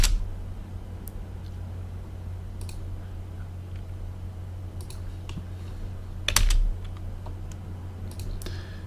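A few sparse key taps on a computer keyboard, typing commands into AutoCAD, sit over a steady low room hum, with one slightly louder cluster of clicks partway through.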